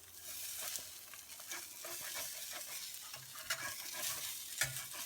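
A quesadilla cooks in a pan with a quiet, steady sizzle and crackle, with occasional soft scraping from a utensil, close but faint.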